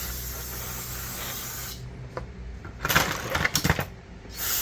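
Cleaner sprays from a can onto parts of a Quadrajet 4-barrel carburetor being rebuilt, coming as several short hissing bursts of varying length after a stretch of low background noise.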